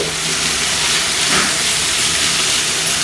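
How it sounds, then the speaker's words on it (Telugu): Continuous steady hiss and bubbling of a little water boiling in a pan with drumstick leaves, close and fairly loud throughout. "కొద్దిగా నీళ్ళు ఉడుకుతున్నాయి."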